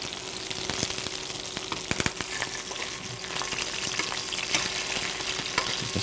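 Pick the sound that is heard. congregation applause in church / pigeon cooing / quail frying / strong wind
quail frying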